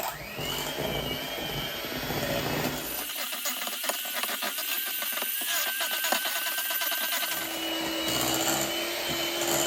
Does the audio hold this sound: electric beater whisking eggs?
yes